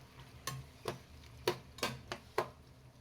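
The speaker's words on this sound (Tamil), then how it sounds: "ஸோ இதை நல்லா வதக்கி கொடுத்துக்கோங்க" Chicken with masala being sautéed in a pan for Dindigul-style seeraga samba biryani, heard as quiet, irregular spoon scrapes and stirring clatters, about six distinct strokes over a faint sizzle.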